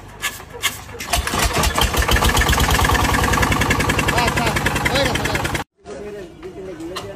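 A power tiller engine cranks and catches, then chugs loudly with a rapid knocking rhythm for several seconds before cutting out abruptly and rumbling again more quietly, with people talking over it.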